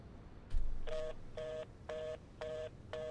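A telephone in the driving video game Driving Home sounds a low thump and then four evenly spaced dialing tones, each a short clear beep with a gap between, fairly quiet overall.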